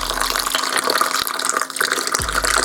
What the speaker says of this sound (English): I'll just add some water